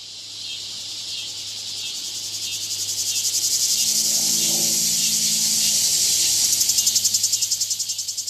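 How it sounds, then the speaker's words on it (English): A loud, steady chorus of cicadas drones without a break, swelling a little toward the end, with no other sounds. "You probably heard a cicada if you've not seen one, and there are these insects that make a lot of noise."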